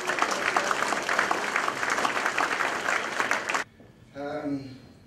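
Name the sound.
audience applause at prize giving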